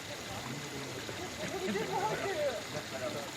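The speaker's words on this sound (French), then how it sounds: "Les gens arrosent les Bouddhas avant de prier les différentes divinités." Water splashes and trickles as it is poured over Buddha statues at Koyasan, a soft gurgling stream that swells midway, nearby and fairly faint amid outdoor ambience.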